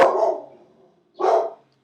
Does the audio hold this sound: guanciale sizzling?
no